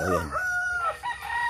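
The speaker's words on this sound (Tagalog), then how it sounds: "May mga manok, may mga pato." A farmyard rooster crows close by, one drawn-out call with a few clucks from chickens, heard alone at moderate volume.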